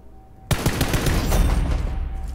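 Rapid automatic gunfire in PlayerUnknown's Battlegrounds breaks out abruptly and keeps rattling in dense bursts, fairly loud and close, with no talk over it.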